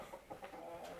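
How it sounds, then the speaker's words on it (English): Chickens cluck softly in a garage, a few quiet, short clucks close by over a faint background, with no talking. "Go on, chickens."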